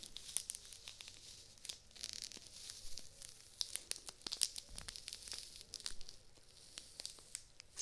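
Thin plastic panty liner inside a new swimsuit crinkling and rustling in soft, continuous handling, quiet and close with brief sharper crackles, recorded binaurally.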